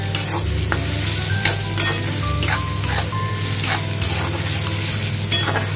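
Onions sizzle and fry in a pan with a little sugar while a utensil stirs and scrapes in steady strokes, the frying loud and constant with a low hum beneath.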